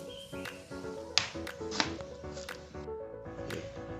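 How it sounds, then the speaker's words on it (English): A knife chops a pepper rapidly on a cutting board, quick irregular taps close by, with a few louder knocks mixed in. "I'm cutting my pepper with the knife, so just cut it very, very tiny into tiny piece"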